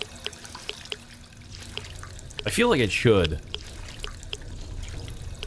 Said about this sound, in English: Let's just drink until we're healed.